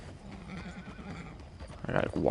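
Horse in the Red Dead Redemption 2 video game, with soft hoof movement and quiet snorting building to a louder neigh near the end, while someone talks over it.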